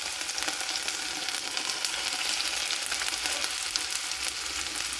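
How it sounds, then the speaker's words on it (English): Green onions and spinach fry in melted ghee, giving a steady, dense sizzle and crackle that holds evenly close up with no voices. "our ghee is now melted, and I am going to be adding our green onions"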